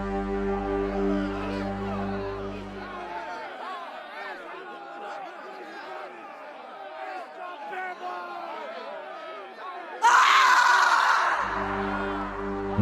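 A dramatized scream of terror bursts out suddenly and loud near the end, following a stretch of agitated crowd chatter and murmuring voices over a low droning backdrop.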